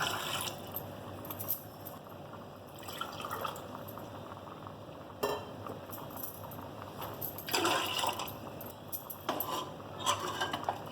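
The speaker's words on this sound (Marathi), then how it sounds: "कुकरमध्ये पाणी घालून घेऊया." Water pours and drips into a pressure cooker in a home kitchen while dal and rice are being made. Soft splashing comes in a few bursts, mixed with light clinks of metal pots. No one talks.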